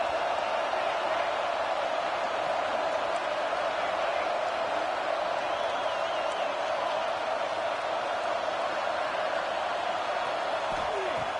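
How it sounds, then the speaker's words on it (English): A stadium crowd in a Madden or college football video game roars in a steady, dense wash of cheering that holds at an even level throughout, broad and distant with no distinct voices standing out. "this crowd coming to life here, trying to help the defense get a stop with the offense pinned back"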